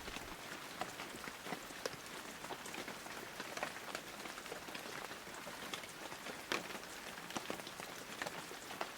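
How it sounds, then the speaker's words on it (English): Steady rain pattering on a boat, a dense even hiss dotted with sharper individual drops throughout. "It rained a lot."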